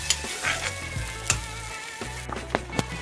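Mustard seeds fry in cooking oil for an Assamese fish and mustard curry, giving a steady close sizzle broken by sharp pops and crackles and a few clattering stirs of a spoon in the pan, with no voices.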